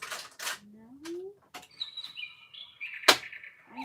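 Songbird chirping in a home craft room, with several clear rising whistles and tweets spread through the moment, interrupted by short bursts of noise and a brief voice.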